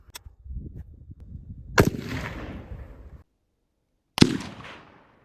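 Two sharp reports from a suppressed AR15 rifle, the first sitting over low rumbling background noise and the second standing out alone after a short silence, each with a quick decaying tail.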